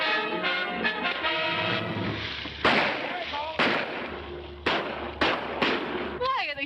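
Gunshots fired at a man in a 1940 film, several sharp sudden cracks spaced a second or so apart, mixed in with music and brief voices.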